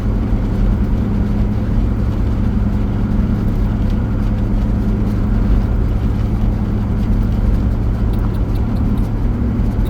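Steady engine and road rumble from inside a car cruising through Bay Saint Louis, Mississippi, near the Gulf of Mexico, an even droning hum that holds unbroken for the whole stretch without voices.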